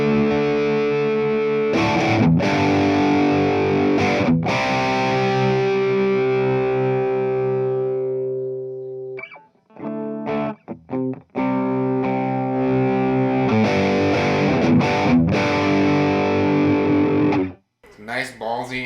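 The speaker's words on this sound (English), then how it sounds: "So this is just our distortion." Electric guitar played through a Fender distortion pedal, giving a thick, crunchy amp-like overdrive: sustained distorted chords ring out and fade, then a burst of rhythmic chopped strums with short pauses before the chords ring again, loud and close.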